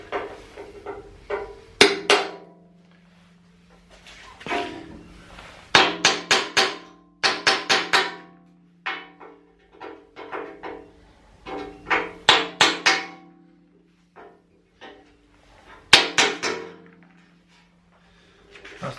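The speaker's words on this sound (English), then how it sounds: "Just a punch to see if we can punch these rivets through now." Hammer striking a punch to knock rivets out of a car bumper, sharp metallic clinks in irregular clusters of several rapid blows separated by brief pauses, close and clear with no talking.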